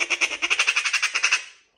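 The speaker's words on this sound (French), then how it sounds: "C'est une tourterelle, ça, non?" A captive pet bird, thought to be a turtle dove, gives a rapid run of about fourteen harsh, rhythmic squawking calls, close and fairly loud, alone without talk.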